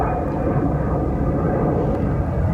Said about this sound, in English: I was really hoping that that plane would fly over the top of the hole there